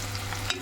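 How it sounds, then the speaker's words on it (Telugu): Sliced medium-size onion fries with a small piece of cinnamon stick and three cloves in a pan, giving a brief, faint, steady sizzle with a light stir. "ఆనియన్ బాగా ఫ్రై అవ్వాలి."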